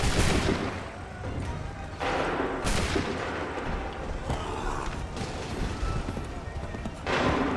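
Musket volleys from the Assassin's Creed III video game boom out as several loud, broad blasts spaced a few seconds apart, amid battlefield noise and shouted commands.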